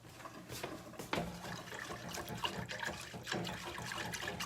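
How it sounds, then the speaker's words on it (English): Running tap water splashes steadily over a chocolate-coated whisk being rinsed in a kitchen, with a constant close trickle and occasional clatter. "I need to rinse my whisk before I stick it in there with chocolate all over it."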